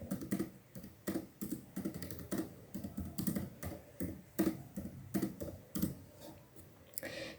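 Typing a sentence on a computer keyboard for a Microsoft Word lesson: quick irregular clusters of close key clicks run throughout, with brief pauses between bursts and no talking.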